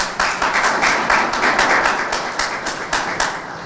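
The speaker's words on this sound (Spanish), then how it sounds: "un caluroso aplauso a todos y a todas" An audience applauds at a lecture in a hall, with a dense, steady burst of many hands clapping together that rises quickly and holds at a moderate level without speech.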